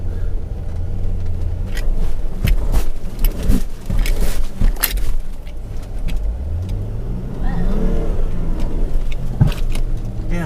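A 4x4 vehicle rolling over rough, bumpy ground along a shore, its engine rumbling close and loud while the body jolts with repeated clunks and rattles.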